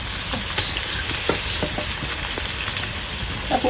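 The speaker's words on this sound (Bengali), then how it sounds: "এগুলি এখন ভেজে নেব একটু ভাজবো" Onion and garlic paste fries in a hot pan, giving a close, constant sizzle and crackle with occasional stirring scrapes, and nobody speaks.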